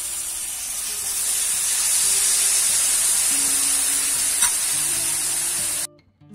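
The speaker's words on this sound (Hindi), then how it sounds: "तो इस दही को हम इसमें डाल देंगे" Half a cup of yogurt poured onto fried spices in a pan for a green chilli curry sets off a loud, steady sizzle and steamy hiss that holds for several seconds, then cuts off abruptly.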